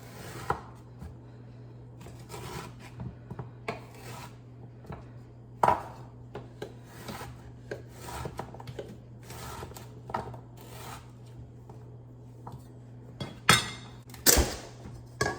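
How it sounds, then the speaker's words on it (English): Steady knife chops dicing a cold beet on a cutting board, irregular taps with a few louder knocks near the end, over a low background hum. "let's dice this baby up"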